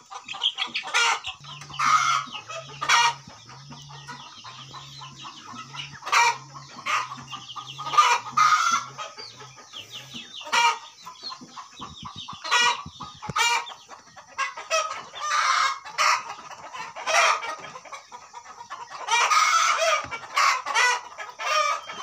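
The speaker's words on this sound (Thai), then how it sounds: "ไก่ดำแท้ๆนี่พี่น้อง" Black chickens cluck busily and a rooster crows on a farm, with a steady run of close, repeated clucks and intermittent calls, no talking.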